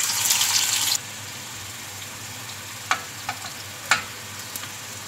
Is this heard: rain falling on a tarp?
no